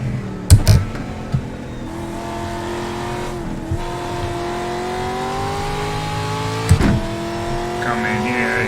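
A trophy truck engine roars in a racing simulator game on a dirt road, a loud sustained drone with rising and falling pitch as it revs, broken by a few sharp thumps.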